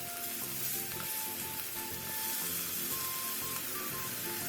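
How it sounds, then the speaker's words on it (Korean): Meat and onions stir-frying in a pan for a budget home-cooked side dish, a steady close sizzle with occasional scraping of a utensil, no talking. "고기의 겉면이 어느 정도 익으면 양파를 넣고 양파가 살짝 투명해질 때까지 볶아주세요"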